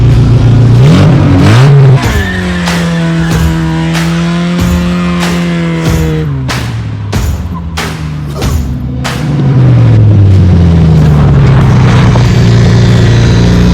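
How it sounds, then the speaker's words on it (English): A car engine revs hard and repeatedly during an improvised backyard drift event, with the clutch burning, swelling and falling in loud, close bursts with sharp gear and throttle changes. "Burning some clutch, are we? We might have some clutch issues."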